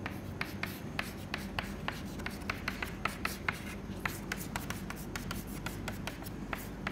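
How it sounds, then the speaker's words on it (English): Chalk or marker writing on a board during a finite element methods lecture, a steady run of quick, light taps and scratchy strokes over a constant room hum, with no talk. "so I am just writing it down for you."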